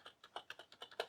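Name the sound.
spacebar of Sumvision Seeker Destroyer gaming keyboard being pressed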